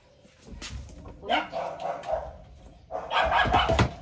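Dogs bark in two close bursts, a few sharp barks and yips at first, then a louder run of barking near the end.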